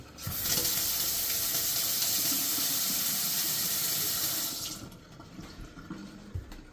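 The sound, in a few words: water running from Delta two-handle kitchen faucet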